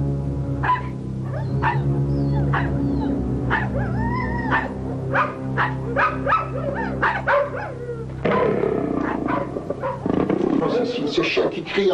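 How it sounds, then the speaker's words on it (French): Dogs crying, yelping and howling at night in the streets of Île-Rousse, several overlapping whimpers and wails that continue at close range, with no talking. "Ces chiens qui crient encore, il n'y a pas moyen de dormir"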